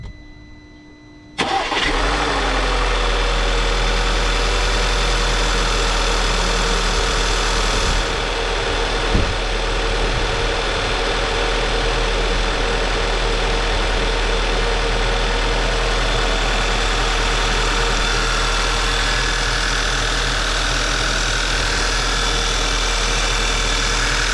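Engine of a 2015 VW Tiguan cranking briefly and catching, then settling into a steady, loud idle with a constant hum that carries on unchanged with no talk.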